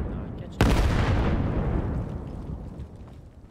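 A loud, close grenade blast in the competitive shooter Vail erupts sharply and rumbles away into a long, fading roar of debris and echo over a few seconds.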